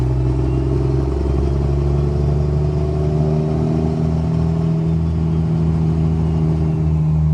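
Cummins diesel truck engine on a test drive, a loud, steady, rumbling idle-to-cruise drone with clattering texture throughout; turbo whine is not distinctly apparent.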